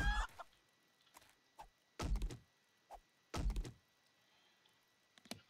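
Short clucks from a chicken in the video game 7 Days to Die come in scattered bursts among soft thuds, sounding like a game character.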